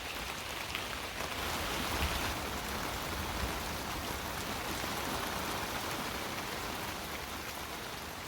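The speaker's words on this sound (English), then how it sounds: "it is raining really hard" Heavy rain pours steadily in a garden, a dense, even hiss of drops drumming on surfaces that stays loud and unbroken throughout, with no voices.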